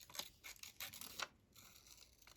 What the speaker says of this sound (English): I think I need to use my small scissors.